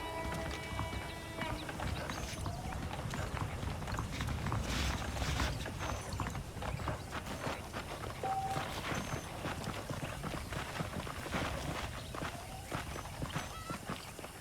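Steady hoofbeats of horses walking in the video game Red Dead Redemption 2, a continuous clip-clop over a busy background of ambient noise, with no one speaking.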